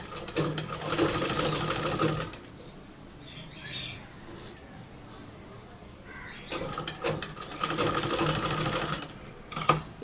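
Sewing machine stitching a chain onto a kameez neckline, running in two loud bursts of rapid mechanical whirring with a quieter pause of handling noise between them.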